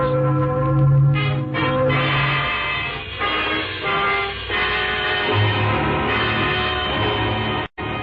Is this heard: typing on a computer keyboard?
no